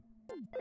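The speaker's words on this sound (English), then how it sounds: "I'm the only one who can answer a phone, so let's do it." A short electronic telephone ring from the Earthbound video game: a quick falling tone followed by a brief bright trill, fairly quiet and heard alone.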